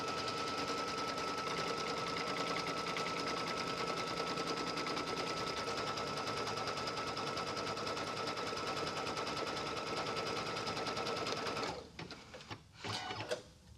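A quilting machine runs a rapid, continuous buzzing stitch over batting in a hoop, making two tacking passes, then stops abruptly, followed by a few faint clicks and handling sounds.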